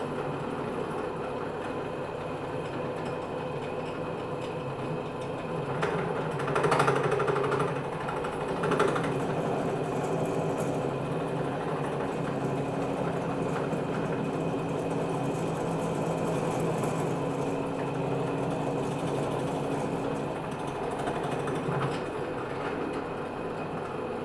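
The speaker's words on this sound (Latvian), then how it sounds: "audzēknis tuvina urbi paredzētajai detaļai. Urbšanu veic bez uzspiešanas, ļaujot urbim pašam veikt darbu." A drill press bores into a metal part during a workshop safety demonstration, its motor and cutting giving a steady, moderately loud mechanical drone with a couple of brief louder bursts, no voices.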